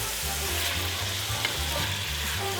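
Vegetables for a beef stew sauté in a pot with a steady, close sizzle and soft stirring scrapes, plus a low continuous hum beneath, with no talking.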